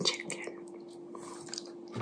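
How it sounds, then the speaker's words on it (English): Close, quiet chewing of Kentucky Fried Chicken with crunchy skin, soft wet bites and crackles over a steady low hum, with a sharper crunch near the start and end. "Welcome to another ASMR of me eating Kentucky Fried Chicken"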